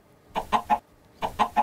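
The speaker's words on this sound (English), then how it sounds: "or killing chickens in Minecraft." Chickens cluck in Minecraft, two short bursts of three clipped clucks each, close and clear against a quiet background.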